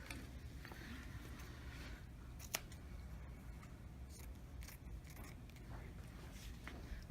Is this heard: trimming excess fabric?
yes